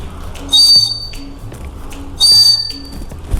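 A small clay bird whistle bought while shopping in Tirumala sounds in two short, bright, shrill bursts, each briefly held, with quieter background noise between them.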